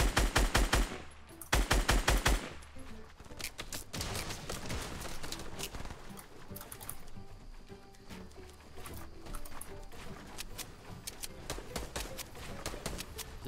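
Fortnite Battle Royale gunfire: loud rapid bursts of automatic shots at first, then continuing volleys of distant and nearby fire through the game's background noise.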